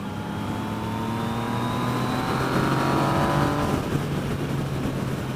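A 2017 Yamaha FZ09 motorcycle engine runs steadily under load while riding, a smooth throaty drone with rising pitch sweeps over constant wind and road roar, no talking.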